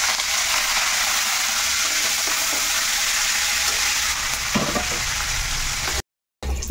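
Dried red chillies and curry leaves crackle and sizzle loudly in hot oil in a close, steady burst, cut off by a brief silence near the end.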